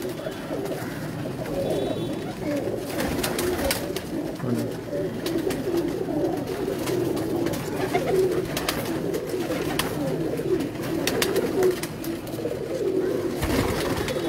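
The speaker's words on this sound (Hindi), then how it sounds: "ये मेरे पास एक डब वाले कबूतर हैं" Several pigeons coo steadily on a rooftop, a soft, continuous low murmur with occasional wing flutters. The cooing is close, and there is no talk.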